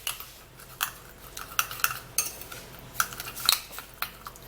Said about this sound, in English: Now after doing that, then you can give this a nice stir.